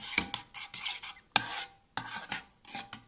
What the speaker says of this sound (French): on peut commencer à mélanger afin d'obtenir la ganache